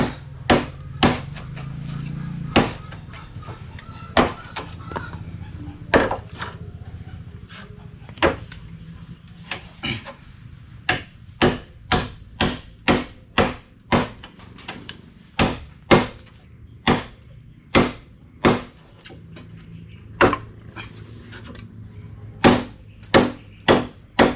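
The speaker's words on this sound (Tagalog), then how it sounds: "ito gagamitin natin gulok" Bolo knife chopping wood for hut flooring: a long series of sharp, loud blade strikes, irregular at first, then steadier and spaced about a second apart, close to the listener with no voices.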